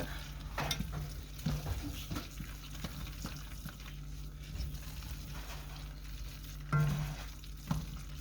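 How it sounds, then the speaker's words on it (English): Food stirred together with Mexican blend shredded cheese in a hot pan, a steady sizzle under scraping utensil strokes, with a couple of louder clanks against the pan near the end. "And then I'm just going to mix it all together."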